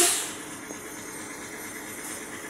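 Air hisses steadily from the foot valve as the trailer brake is released on an Isuzu truck, a loud burst at first that settles into a continuous mid-level hiss.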